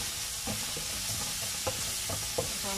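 Onion, ginger and garlic fry in a pan, a dense close sizzle running throughout with a few soft stirring knocks and scrapes, fairly loud and without any talking.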